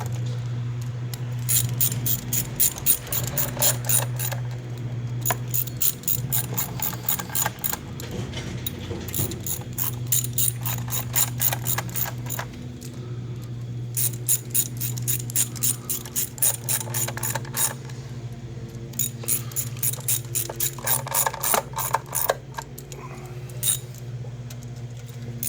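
A ratchet snugs the valve cover bolts on a 2004–2008 Suzuki Forenza, giving repeated bursts of rapid, crisp clicking separated by short pauses over a steady low background hum.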